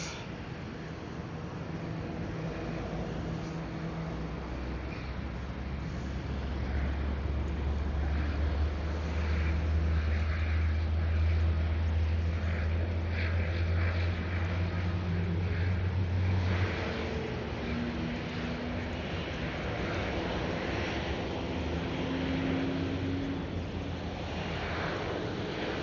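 Aging TAP airliner departing Ponta Delgada airport, a distant low engine rumble swelling and fading through the middle of the clip under steady wind noise on the microphone.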